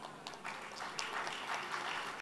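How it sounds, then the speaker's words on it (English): Applause from a church gathering, a soft, moderately distant patter of many hands clapping that stays fairly even throughout, with no one talking. "Are you clapping or doing something like clapping?"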